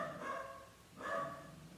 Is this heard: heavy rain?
no